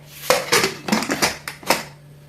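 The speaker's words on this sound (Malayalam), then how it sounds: "ഇത് കുക്കർ അടച്ചു വെച്ചു." A pressure cooker lid being fitted and closed in a home kitchen: a quick run of six or seven sharp metallic clanks and knocks, close and loud, fading into quiet with no talking.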